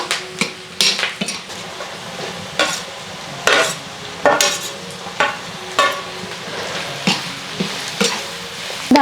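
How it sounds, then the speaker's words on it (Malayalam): Large pieces of garlic fry in a hot pan, with a low sizzle beneath repeated sharp clanks and scrapes as a utensil stirs against the pan at irregular intervals, and no talking. "നല്ല ചട്ടി ചൂടായിരുന്നു കായമറുത്തപ്പോൾ അതുകൊണ്ട് വേഗം വെളുത്തുള്ളി ഇട്ടത്"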